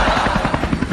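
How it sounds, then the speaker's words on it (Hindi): Steady, loud whirr of a helicopter's rotor beating in a fast, even rhythm through a short burst. "चिंटुआ, थोड़ा सही से उड़ा हेलीकॉप्टर, मुझे बहुत डर लग रहा है"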